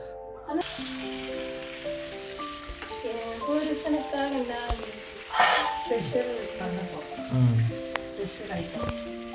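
Eggs fry in a pan with a steady, close sizzle and occasional stirring scrapes, while people talk over the cooking throughout.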